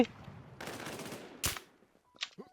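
Gunfire in the shooter game Runner, a few sharp shots and short bursts with quiet gaps between, fairly faint.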